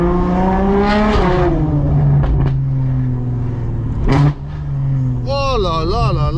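A heavily modified car with a very loud engine revs hard in repeated rising bursts, close and dominant, its high-pitched scream recalling a Formula 1 car, with voices talking over it.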